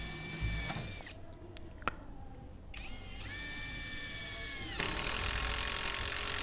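A Dagmara TD172 impact driver on speed 3 drives a 10 cm screw with a PH3 bit: loud high whirring bursts of the motor with rising and falling pitch and rattling impacts, alone with no voices.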